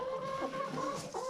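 Chickens in a coop pecking at scattered scratch grain give soft, overlapping clucks and murmurs, a close, quiet, continuous chatter with no speech.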